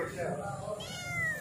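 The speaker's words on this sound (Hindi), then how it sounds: "ये बिल्ली का बच्चा है" A young stray kitten with partial hind-limb paralysis gives a couple of close, high, thin meows indoors, with a person speaking over them.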